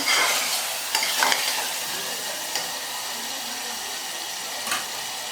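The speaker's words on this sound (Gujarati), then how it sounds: "હવે આપણે ફરી હલાવી લઈશું આ બધા મસાલા હોય એટલે એક મિનિટ સુધી આમ જ આપણે તેલમાં સાંતળવા દઈશું" Spices sauté in hot oil while being stirred for a Gujarati mixed green chickpea and pigeon pea curry. A steady soft sizzle runs throughout, with a few sharp scraping stirs near the start and a couple more later on.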